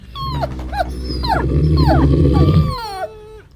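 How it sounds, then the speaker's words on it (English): A small dog whimpers while trapped inside a deep iron pot, a series of high, rising and falling whines and yelps over a low rumbling hollow resonance, fairly close and loud. "Then he heard Fang whimpering in the iron pot."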